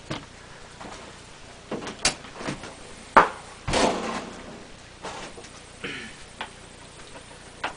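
The door of a Masterbuilt 40-inch electric window smoker is opened, giving a few faint clicks and knocks and then a louder latch clack with a brief creaking swing, set against a quiet room.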